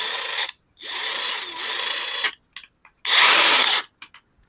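A DeWalt cordless impact tool run through its speed modes: three separate bursts of close, loud motor whir, with short pauses and small clicks between them.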